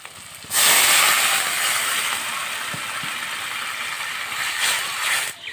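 Water poured into a pan of sizzling prawn masala sets off a sudden loud burst of hissing steam that starts abruptly and stays strong, easing only slightly over several seconds, with a second swell near the end.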